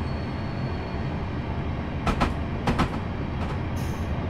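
A train rolls through Clapham Junction on the Portsmouth Direct Line from London Waterloo in Train Simulator, a steady low rumble with a few sharp clicking bursts from the wheels midway and near the end.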